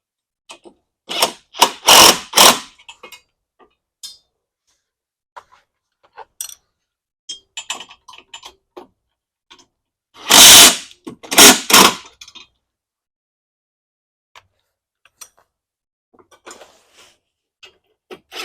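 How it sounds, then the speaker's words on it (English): A ratchet with a 13 mm socket tightens screws while installing a hitch on a golf cart, giving close, loud bursts of rapid clicking separated by quieter scattered clicks and handling noises. "you can just go back and tighten everything up. 13 millimeter socket in there"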